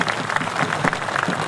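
Crowd applause at an outdoor political rally on a fairground stage in Godda, a dense, steady wash of clapping that fills the short moment at moderate loudness.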